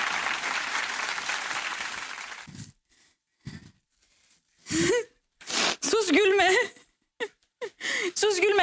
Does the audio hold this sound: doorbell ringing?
no